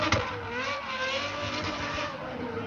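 A continuous, smooth V12 engine exhaust drone with steady harmonic tones holding at high volume, rising and shifting slightly in pitch as it revs.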